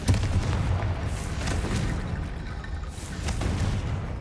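Confringo fire spell blasts in Hogwarts Legacy, repeated rumbling booms with a few sharper bursts over a dense, steady background of game noise.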